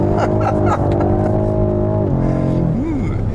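A BMW M5 Competition drifting on a race track gives a loud, sustained engine drone with shifting revs, steady through most of the run and then dipping and rising near the end, with no talk.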